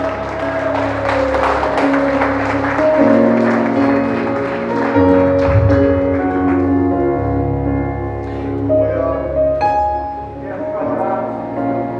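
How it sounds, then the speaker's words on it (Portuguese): A church congregation stands and applauds, sustained clapping under organ or keyboard chords and a few voices, moderately loud and steady throughout. "fica de pé para aplaudir ao Deus de Israel"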